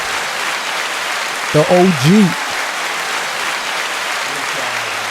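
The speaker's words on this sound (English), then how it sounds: "let's give him a round of applause one more time" A live crowd applauds and cheers as a guest is welcomed on an NYC podcast, a broad steady wash of clapping running throughout, with someone briefly talking over it.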